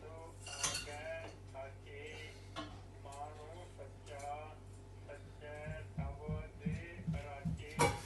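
Mince being tipped into a cooking pot for shepherd's pie in a home kitchen, with clinks of utensils and pan knocks toward the end while someone talks over most of it.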